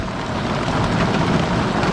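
Steady, heavy rainfall roars continuously, a dense broadband wash with a low rumble of distant thunder underneath.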